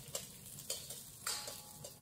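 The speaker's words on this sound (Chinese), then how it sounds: "锅中放入一点点油，油不要太多，放入蒜片、葱段爆香" Garlic slices and scallion pieces frying in a little oil in a wok, a steady close sizzle broken by several stirring scrapes, with no talking.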